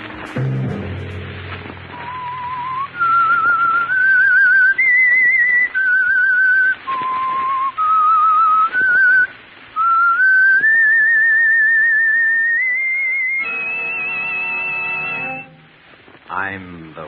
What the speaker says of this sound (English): began with the sound of footsteps and a person whistling